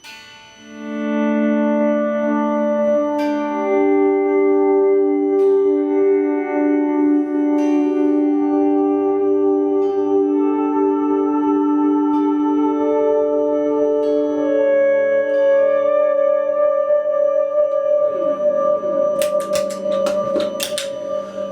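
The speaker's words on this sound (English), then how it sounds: "We've got our reverb, we've got our delay, we've got our overdrive. So here's some swelly goodness." Sustained electric guitar notes swell in slowly and ring out, washed in reverb and echoing delay with overdrive, with a sharp strummed burst near the end.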